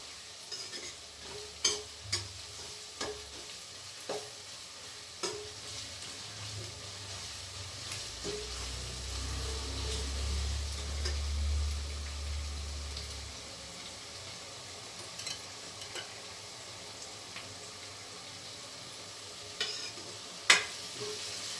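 Chicken pieces fry dry in a pan, producing a soft, steady sizzle with scattered clicks and scrapes of a spatula, plus a low rumbling burst midway; close and fairly quiet, without speech.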